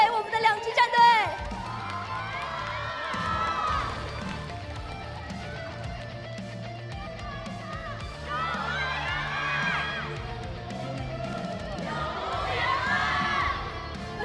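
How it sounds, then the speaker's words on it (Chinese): Fans at an Identity V esports festival in Puyuan cheer and shout for two teams on stage, the crowd noise swelling in repeated loud waves of whoops and excited yelling over a steady roar. "也请我们现场的粉丝朋友们再一次把热烈的掌声送给我们的2支战队"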